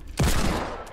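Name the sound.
gunfire from Fortnite video game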